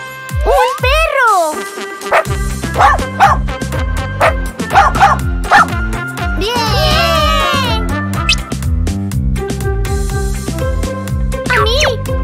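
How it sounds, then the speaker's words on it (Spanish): A toy dog from a surprise egg gives repeated bright, electronic-sounding barks and yips over busy cartoon music with swooping effects, loud and close throughout. "¡Un perro!"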